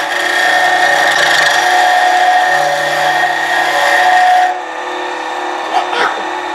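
A wood lathe turns a pen blank while a chisel cuts it, giving a loud, steady tonal whine with scraping for several seconds, then a quieter, thinner ring once the cut eases.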